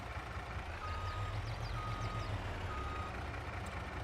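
A truck in a farming game reverses with a steady series of evenly spaced high beeps over a low, constant engine rumble, clear and close with no talking.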